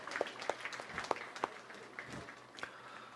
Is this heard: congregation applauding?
yes